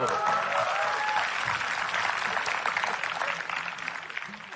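An audience at an evening magic show claps in sustained applause that begins full and slowly thins out toward the end, with a faint tone briefly audible early on.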